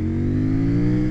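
A CFMoto 800NK naked motorcycle with the KTM LC8C 790 parallel-twin engine revs hard and close, a steady loud engine drone rising slightly in pitch throughout, with no talk.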